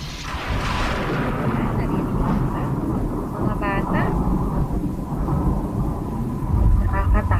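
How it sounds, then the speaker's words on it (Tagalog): Low rumbling thunder rolls beneath a steady wash of rain and wind, with a voice talking faintly partway through. "Naririnig natin kapag bumabagyo ang malakas na hangin na may kasamang malakas na ulan, kulog at kidlat."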